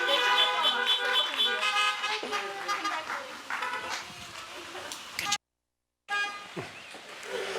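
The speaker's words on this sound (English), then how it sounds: "I wasn't anticipating the horn honking." A car horn honking outdoors at a 2020 graduation, heard as repeated loud tonal toots over crowd noise and voices, broken by a brief silent gap before the honking resumes.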